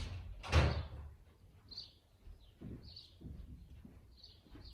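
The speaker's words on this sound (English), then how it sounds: "My cat has opened the door. I'm just going to shut the door." An indoor door is shut during a home yoga session, giving one solid thud near the start, with fainter knocks and rattles and a few small high sounds after, and no talking.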